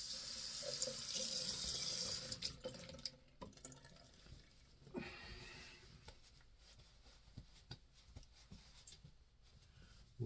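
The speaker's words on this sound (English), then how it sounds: "Okay, let me rinse." A shaving brush is rinsed under a running bathroom tap: a steady hiss of flowing water for about three seconds, then faint drips, taps and handling sounds, quiet and close with no talking.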